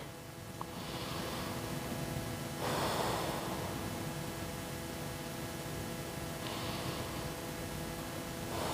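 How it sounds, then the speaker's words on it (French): Slow, deep breaths during a standing yoga session, two soft broad inhales or exhales spaced apart and close to the microphone, over a steady quiet room hiss with no talking. "Et prenez 3 respirations ici."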